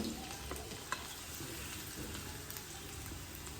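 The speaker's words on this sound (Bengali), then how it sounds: "এটা জাস্ট হালকা করে ভাজা হবে রসুন গন্ধটা চলে যাবে" Chopped ginger and garlic fry lightly in a pan for chilli chicken, giving a steady, soft sizzle with faint stirring scrapes and a small clink near the start, no voices.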